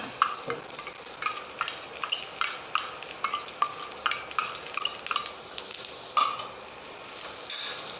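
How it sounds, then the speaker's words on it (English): Ingredients for dahiwala lauki oats are stirred together in a pan, a rhythmic series of close scraping spoon strokes over a soft sizzle, with no talking. "Mix all the ingredients."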